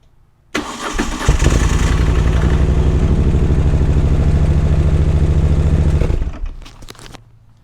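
A Moto Guzzi motorcycle engine cranks and fires after a starter interrupt device is fitted, catching abruptly and settling into a loud, steady, throbbing idle before cutting out.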